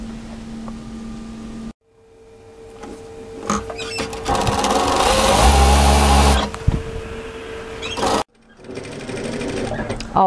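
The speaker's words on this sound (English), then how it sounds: "go ahead and sew the other strap" A sewing machine stitches an apron strap, its motor whirring up to speed in a loud, rapid running burst that peaks mid-way, with quieter handling noises and pauses around it.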